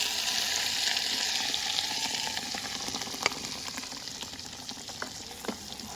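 Homemade spice paste hits hot oil in a pan while shrimp malai curry is being made without coconut. It gives a steady, close frying sizzle with a few sharp crackles and spatula clicks, and no voices.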